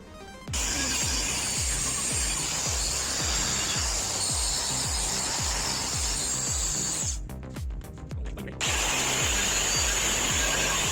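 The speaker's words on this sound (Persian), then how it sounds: "با این سنباده ها مجبوریم رنگش رو ببریم." A power tool with a sanding attachment grinds paint off a steel gas cylinder, a loud steady abrasive whir with a rapid rhythmic scraping pulse. It cuts out briefly near the end and then resumes.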